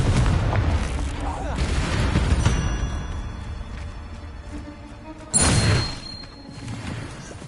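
A Confringo blast spell goes off in the Hogwarts Legacy video game as a sharp booming explosion, followed by a second burst later, amid other game effects and rumbling.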